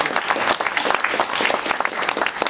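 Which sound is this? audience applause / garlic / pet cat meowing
audience applause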